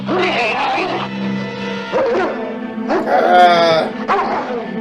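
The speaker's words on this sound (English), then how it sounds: "I think I heard a dog over there" Dog barks and whimpering yelps from a movie soundtrack, several bursts in a row with whining tones, up close and loud over a low steady hum.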